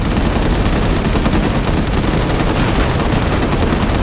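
Dense, sustained gunfire from a Call to Arms battle against giant tripods, loud and continuous with rapid overlapping shots and heavy weapon fire throughout.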